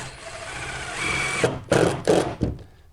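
A power drill whirs steadily as it drives a screw into deck boards, then breaks into a few short, sharp bursts as the screw seats, close and fairly loud with no talking.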